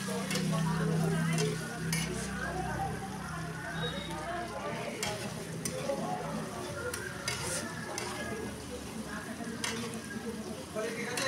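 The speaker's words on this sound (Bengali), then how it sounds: "ভালো করে কিন্তু পেঁয়াজটা ভেজে ফেলবো" Onions fry with turmeric and salt in a pan, a steady close sizzle with scraping stirs throughout, a low hum near the start and someone talking over it at times.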